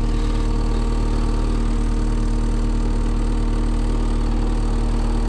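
Heavy equipment engine idling with a loud, steady low rumble and a persistent mechanical rattle, close and continuous throughout, with no talking.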